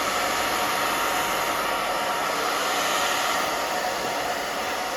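A hair dryer blows steadily and loudly at close range while short hair is dried in a pixie cut, giving an unbroken airy roar throughout.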